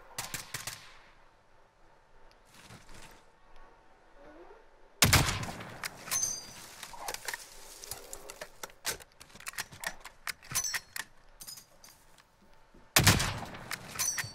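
Sniper gunfire in the battle royale shooter Call of Duty Warzone: a few sharp, loud cracks that stand apart from quieter scattered in-game noise, with people talking over the match.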